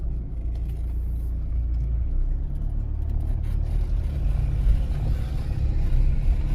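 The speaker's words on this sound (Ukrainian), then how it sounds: "Запустили двигун." A car engine running in neutral during a driving exam in Mykolaiv, giving a steady, close, low idling rumble that holds throughout with no talk.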